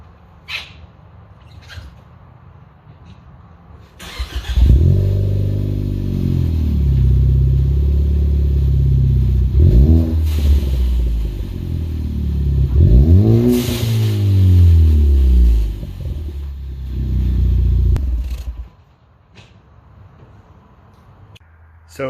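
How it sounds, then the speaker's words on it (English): A Ford Focus ST with an MBRP exhaust cranks and fires up, settles into a loud idle, then gets blipped through several sharp revs that rise and fall before the engine shuts off. Faint bird chirps sound before and after. "So I'll fire it up here and give you a few revs."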